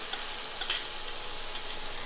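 Mint paste for a seeraga samba pudina rice hits a hot pan and sizzles steadily, a dense close hiss with a brief stirring scrape, no voices.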